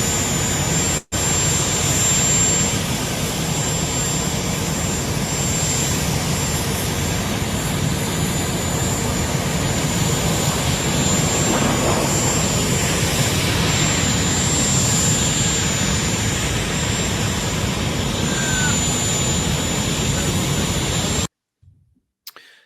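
Air Force One's jet engines give a loud, steady roar and whine that holds for about twenty seconds, then cuts off abruptly.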